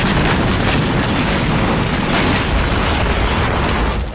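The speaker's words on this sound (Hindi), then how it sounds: "इजरायली वायुसेना दक्षिण गाजा में हमास के ठिकानों पर बमबारी कर रही है।" Heavy, continuous rumbling booms from Israeli air force bombing in southern Gaza, around Khan Younis, fill the whole stretch as a loud, dense roar with overlapping blasts and no clear pauses.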